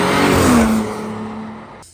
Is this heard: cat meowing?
no